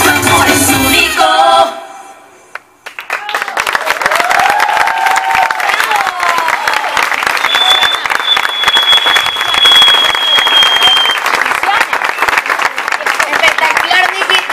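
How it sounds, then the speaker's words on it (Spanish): Audience bursts into loud applause and cheering after a song ends, sustained clapping with shouts and a brief whistle, following the last sung notes at the start. "Disfruta por favor de los aplausos."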